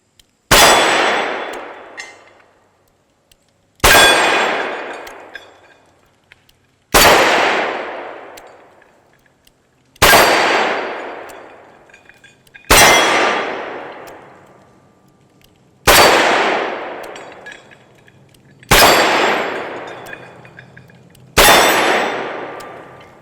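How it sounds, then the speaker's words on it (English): Smith & Wesson 627 Performance Center revolver firing magnum rounds double action: eight loud, sharp blasts, evenly spaced about three seconds apart, each with a ringing decay and faint clicks between. "These first shots are with magnums, and of course, double action."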